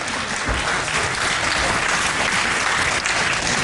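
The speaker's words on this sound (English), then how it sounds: "Appreciative applause from the crowd here." Steady, dense applause from a large wrestling match crowd, sustained at an even level throughout with no voices standing out.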